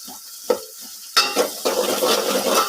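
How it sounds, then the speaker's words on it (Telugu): Onions frying in a pan for a pulusu, stirred with a utensil: a few sharp clinks and scrapes, then a loud, continuous close sizzle with steady stirring. "వేగాక బాగా కలుపుకుంటూ ఉండాలి"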